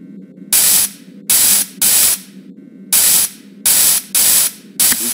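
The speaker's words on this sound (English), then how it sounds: "So go ahead and start spraying the suit" Cleaning solution sprayed onto an animatronic suit in a video game: seven sharp, hissing spray bursts at an uneven rhythm, each lasting under half a second, close and loud over a faint low electrical hum.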